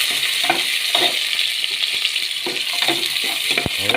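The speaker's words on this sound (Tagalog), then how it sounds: "caramelize na po ang bawang, ilagay na po ang sibuyas" Garlic and onion sizzle loudly in a hot pan as they are stirred, a steady close frying hiss broken by repeated scraping strokes of the utensil, with no one talking.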